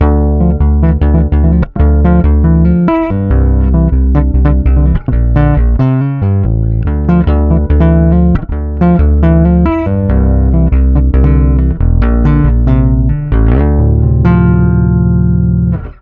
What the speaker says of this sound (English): my quirkiest bass is and remains this, my Greco Flying V bass.